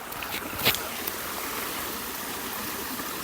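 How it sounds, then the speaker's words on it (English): A forest creek in Pisgah National Forest near Asheville flows and babbles continuously in a gentle steady rush, with a brief splash or knock early on. "the sound of water definitely makes this really nice, serene, peaceful hike"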